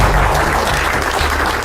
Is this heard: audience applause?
yes